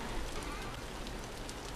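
Steady rain falls in the Vintage Story survival game, a dense, even hiss of drops that carries without a break through the whole moment, fairly loud and close, with no voices over it.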